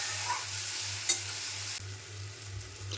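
Garlic ginger paste frying in a pan gives a close, steady sizzle with occasional stirring scrapes, and a low electrical hum runs underneath; the sizzle briefly drops in intensity partway through, then continues.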